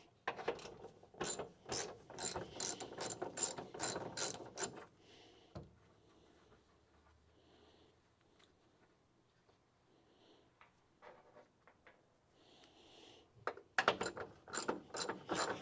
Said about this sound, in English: the ratchet seems to be okay